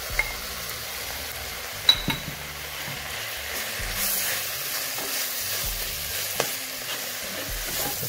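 Canned salmon filling for fish buns being stirred and mixed in a pan, with a soft continuous sizzle and scattered scraping clinks of a spoon against metal.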